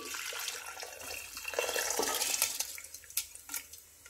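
Water poured from a tap or vessel into a pot holding soaked rice and dal, a close splashing gush that swells and turns into irregular gurgles and drips toward the end, with no talk.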